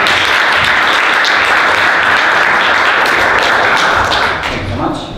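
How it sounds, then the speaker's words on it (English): A conference audience applauds the presenter of a Google Data Studio reporting automation talk: loud, dense clapping from a large room holds steady for about four seconds, then thins and fades near the end. "Could we give her an unnecessarily large amount of applause at the beginning?"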